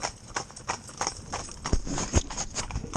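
Hooves of a four-in-hand carriage team clip-clop steadily on a road, with one horse stepping over a manhole; the close, rhythmic strikes continue throughout with a couple of sharper heavy thuds.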